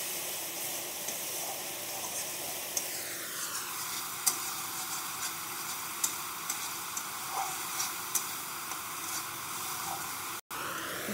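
Bengali niramish vegetable curry masala sizzles with yogurt in a pan while being stirred down. A steady close frying hiss runs throughout, with small scraping ticks from the stirring and one brief drop near the end.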